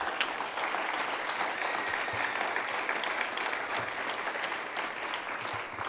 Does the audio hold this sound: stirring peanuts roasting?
no